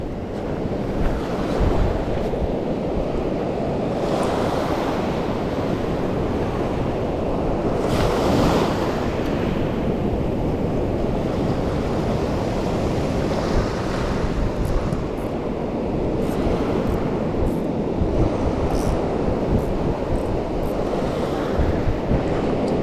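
Rising tide waves wash continuously onto a shore at a fishing spot, making a loud, dense roar of surf mixed with wind buffeting the microphone for the whole stretch.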